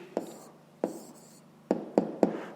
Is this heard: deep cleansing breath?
no